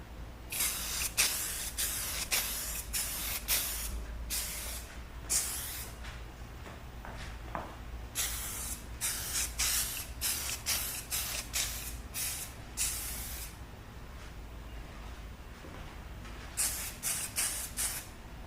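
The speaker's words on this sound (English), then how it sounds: "let me just add some adhesion promoter to the entire body and that part of the neck." Aerosol adhesion promoter sprayed onto a guitar body and neck in short hissing bursts, repeated in quick clusters with brief pauses between, moderately close and fairly quiet; no talking.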